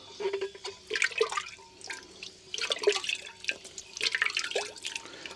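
Water drips and trickles while dishes are washed beside a Hilux camper in the Sahara desert near Merzouga, with irregular small plinks and splashes close by and fairly faint.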